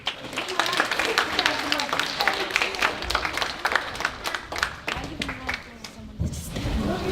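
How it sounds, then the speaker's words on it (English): Students at a Year 7 school assembly giving a round of applause, heard as sustained clapping across a large hall, with chatter and thumps mixed in. "Can you give them a round of applause?"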